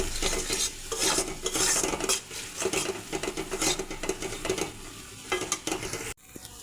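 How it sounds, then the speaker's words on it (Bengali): Spice masala with green chilies, Kashmiri chili powder and a little water being stirred and fried in a pan for a teasel gourd and prawn malaikari, with busy spatula scraping over a sizzle, then an abrupt knock before it falls quiet. "মশলাটা কষানো হয়ে গেছে"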